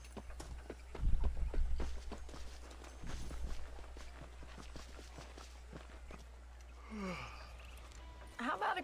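Horse hooves clip-clop in Red Dead Redemption as a rider moves along, a steady rhythmic clatter through the first half that fades into quieter footfalls, with brief voices and game sounds near the end.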